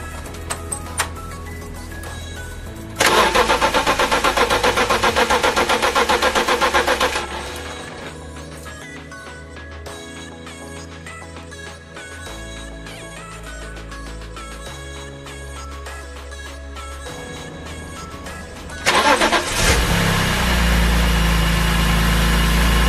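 An S54 engine swapped into a BMW E36 cranks and fires with a loud burst, then settles into a steady idle with a low rumble and rattle, and revs up again near the end.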